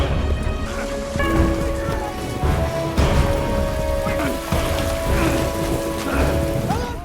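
Steady heavy rain pours throughout, with a low rumble beneath that fits distant thunder and a few brief tonal sounds riding over the downpour.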